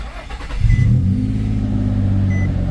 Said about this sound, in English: All right, let's turn the car on.